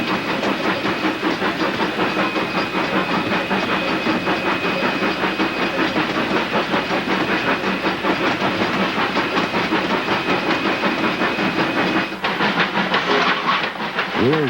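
ET&WNC Tweetsie steam locomotive working hard up the steep State Line Hill grade, a loud continuous roar of exhaust and hiss with rail clatter, heard from close aboard a gravel-loaded hopper car behind the engine.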